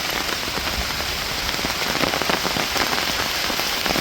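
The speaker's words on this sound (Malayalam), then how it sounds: "പക്ഷേ ഇച്ചിരി കുറഞ്ഞിപ്പം മഴ, കൂടിക്കൊണ്ടിരിക്കുക." Summer rain falling steadily among coconut palms and mango trees, a dense, even patter of drops on surfaces, close and continuous with no voices.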